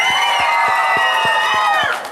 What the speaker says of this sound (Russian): Ваши аплодисменты, Асель!